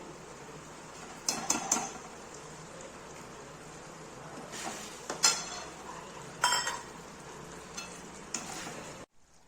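Paneer bhurji masala with cashew gravy is stirred in a pan. A utensil scrapes and clinks against the pan in several short bursts over a faint, steady sizzle.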